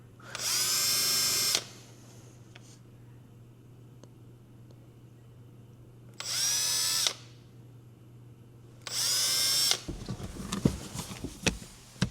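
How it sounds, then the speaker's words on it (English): Three bursts of a power drill whirring at high speed into a Toyota Tundra truck, separated by quiet pauses, ending with some handling and clattering noises. "I switched to a smaller drill"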